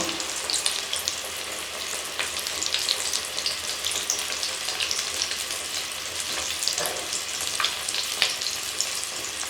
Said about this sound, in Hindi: कढ़ाई में हम इतने ही शामी डालेंगे जितने के अच्छे तरीके से फ्राई हो जाए हमारे कबाब।